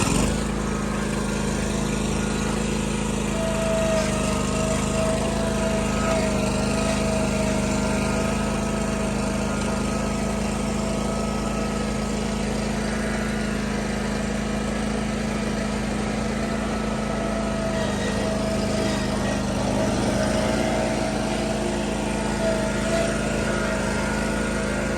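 A lawn mower engine running steadily and loudly nearby, a constant buzzing drone with slight pitch changes as it works, alone without talk.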